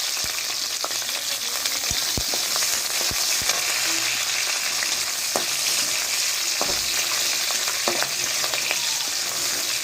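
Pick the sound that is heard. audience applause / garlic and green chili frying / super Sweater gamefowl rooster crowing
garlic and green chili frying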